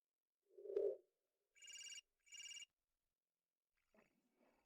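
A mobile phone rings close by in two short electronic bursts, following a brief knock-like thud and trailing into faint rustling, with no talk.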